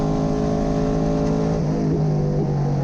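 A TA2 Mustang race car accelerates at Sydney Motorsport Park, its engine a loud steady roar heard close from onboard that climbs in pitch, with a shift late on, and no talking.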